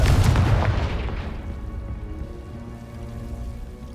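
A Confringo fire spell explodes in Hogwarts Legacy, a loud burst right at the start that decays over a few seconds into low rumble and a faint lingering tone.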